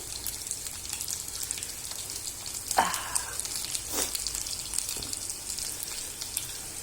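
Fish frying in hot oil for a Kerala fish curry, a steady crackling sizzle throughout with a few louder pops and stirring clinks, no talking.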